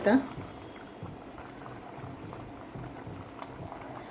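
Pot of water boiling with rice for traditional coconut rice, a soft, continuous bubbling and simmering at low volume.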